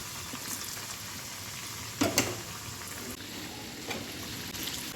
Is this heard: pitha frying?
yes